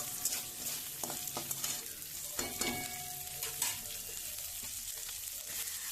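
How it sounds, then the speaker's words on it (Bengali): Onions fry in a pan for ghugni, a continuous close sizzle with spatula stirring and occasional scrapes and clinks, steady and alone without any voices. "আমার পেঁয়াজটা ভাজা হয়ে গেছে।"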